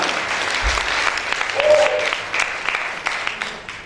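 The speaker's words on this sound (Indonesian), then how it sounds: "Tepuk tangan bagi Tuhan." Church congregation applauding together during an Indonesian worship service, a steady dense round of clapping lasting throughout, fairly loud and close, with some voices mixed in.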